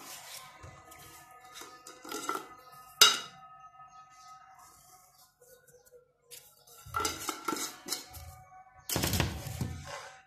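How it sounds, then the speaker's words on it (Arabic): A pot of Moroccan sardine kofta sauce ingredients being stirred with a utensil, giving soft scraping and clinking against the pot in bursts, with louder metallic knocks near the end and quiet gaps between. "وغادي نحركوا هاد العناصر كامله بحال هكا كما كتشوفوا معايا."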